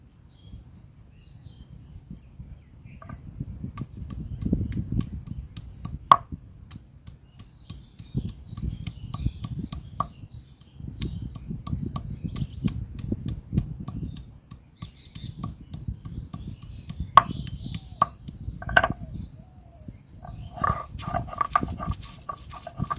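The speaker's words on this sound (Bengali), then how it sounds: "আদা রসুন একই সাথে বেটে নেব।" Ginger and garlic are ground together by hand in a rustic home kitchen, with repeated low, rhythmic scraping and rubbing strokes in waves and occasional sharp clicks, fairly close and moderately loud.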